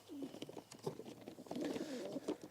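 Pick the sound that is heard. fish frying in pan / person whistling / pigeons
pigeons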